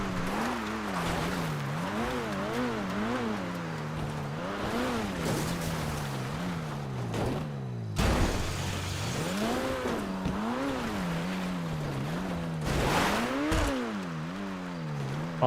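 A car driven in the video game GTA V Online, its engine revving up and down in rapid repeated swells as it shifts and accelerates, with occasional bumps and impacts, loud and continuous with no talk.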